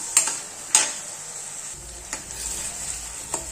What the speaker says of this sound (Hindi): अब टमाटर को नरम होने तक पका लेंगे।